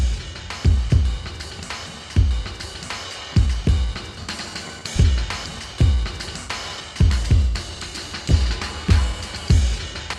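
Loose jazzy drum loop of cymbals and snare, now anchored by deep, booming kick drums thumping in a steady repeating groove.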